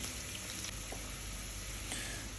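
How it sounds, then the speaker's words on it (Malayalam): Green apple pickle base sautéing in a pan gives a steady, even sizzle and bubbling crackle that holds at one level throughout, close and alone with no talking. "ഇതൊന്ന് മൂത്ത് വരുന്നവരെ സോട്ട് ചെയ്യണം"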